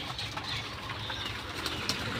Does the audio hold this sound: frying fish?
no